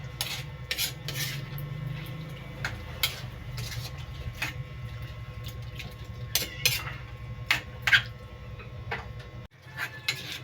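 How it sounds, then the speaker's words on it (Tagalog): Oyster sauce and ketchup being stirred in a pan for Filipino pork adobo, with irregular scraping and rubbing utensil strokes and light ticks over a steady background hum, close and moderately loud, with no talking. "Tapos haluin lang natin para ma-mix natin yung oyster sauce at ang ating ketchup."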